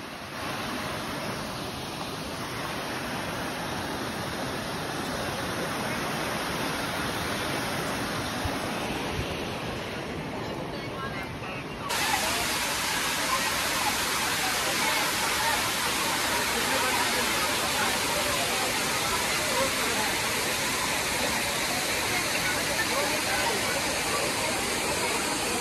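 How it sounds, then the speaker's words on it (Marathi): The waterfall at Bhushi Dam in Lonavala pours as a dense, steady roar of rushing water that fills the whole scene, growing louder and brighter partway through. "मस्त धबधबा."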